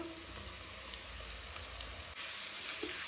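Onion and tomatoes frying in a pan over medium heat, a soft continuous sizzle with faint stirring clicks, close and steady with no talk.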